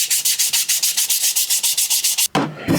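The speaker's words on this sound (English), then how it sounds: "I'm going to get to finish sanding this body down and getting it ready." A 3D printed prop body for an Endor bunker bomb is sanded by hand with steady, rapid back-and-forth rasping strokes, close and loud, ending in a brief pause and a rougher scrape.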